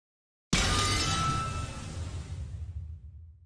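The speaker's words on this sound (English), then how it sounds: "There was a violent sound of glass breaking" A loud burst of glass shattering in the visual novel Umineko When They Cry, an abrupt crash followed by a long scatter of tinkling shards that slowly fades over a few seconds, with no voices.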